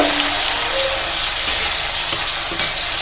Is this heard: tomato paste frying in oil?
yes